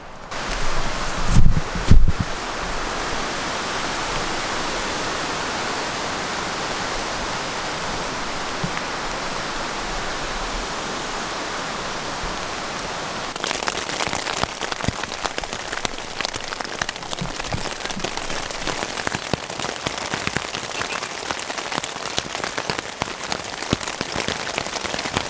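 Heavy rain pours steadily through a Swedish forest, a dense constant hiss of drops on leaves and surfaces with wind gusting, a few louder thumps early on and sharper close patters later, with no talking.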